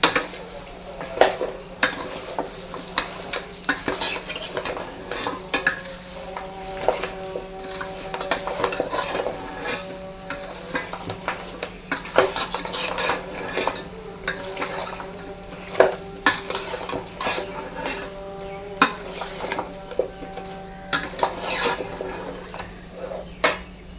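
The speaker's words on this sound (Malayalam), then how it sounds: "എന്നിട്ട് നമുക്ക് നല്ലപോലെ മിക്സ് ചെയ്ത് കൊടുക്കാം" Mango perattu being stirred and mixed in a pan, a steady stream of scraping and clinking spoon strokes against metal with a low sizzle underneath, continuous and close throughout.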